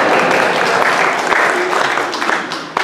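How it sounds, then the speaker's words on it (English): Loud, dense clapping from a worship congregation at a pilgrimage service fills the moment, with a few sharper individual claps standing out near the end. "Jake, what's a round of applause now?"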